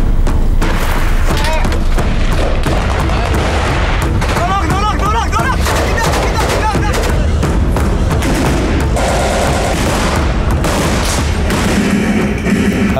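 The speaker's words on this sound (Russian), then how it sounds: "Вот они по нам стреляют." Loud, dense gunfire and booming blasts in a combat zone in Iraq fill the scene continuously, with shouting voices mixed into the chaotic noise.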